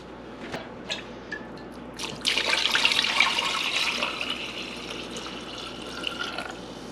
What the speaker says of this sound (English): I've got to add about 2 inches of water.